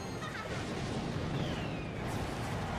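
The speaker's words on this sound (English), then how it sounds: "Little splash on that tower from the Firecracker." Firecracker splash explosions striking a tower in a Clash Royale match at a world finals event, a busy crackling burst of game blasts and crashes layered over constant arena crowd noise.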